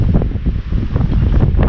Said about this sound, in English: please don't complain about the wind